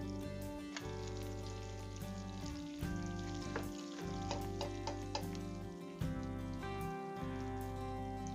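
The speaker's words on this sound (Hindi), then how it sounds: "सबसे पहले एक बड़ा खाने का चम्मच घी डालेंगे फ्राई पैन में, और हमारे बादाम और गिरी और पिस्ता है इसको 1 मिनट के लिए भूनेंगे।" Almonds, nut kernels and pistachios roasting in ghee in a frying pan give a steady, close sizzle with crackling pops and a few stirring scrapes, with no talk over it.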